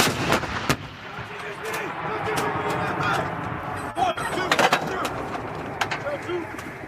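An M777A2 howitzer fires with several sharp, heavy booms spread across the stretch, heard through steady outdoor noise, with shouting crew voices around the shots.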